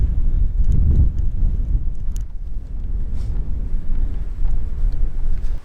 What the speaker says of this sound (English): The wind's coming from that way, crap is coming from this way.